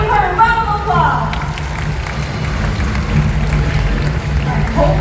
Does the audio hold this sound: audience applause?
yes